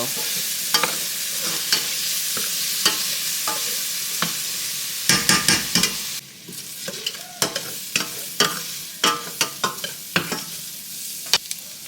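Food frying in oil in a pan for chicken Alfredo, a continuous loud sizzle broken by frequent sharp scraping clicks of a utensil stirring, with a brief dip partway through as more oil goes in.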